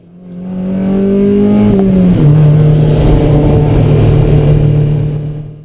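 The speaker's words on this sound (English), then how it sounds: "get on the throttle and the brake, warm up the tires" A Spec Miata race car at Road America revs hard on throttle, its loud, close engine note running continuously and dropping in pitch at a gear change before climbing again.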